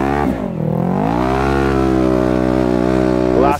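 Polaris RZR RS1 UTV fitted with an HMF full exhaust, its engine roaring loud and close with a deep, steady drone that dips briefly, then holds and swells slightly at the end, with no voices.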